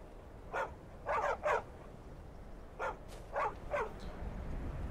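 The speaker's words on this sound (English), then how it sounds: "He's a good dog." A dog in the VR game Skyrim gives six separate barks in two groups of three, moderately near, over a steady low background hum.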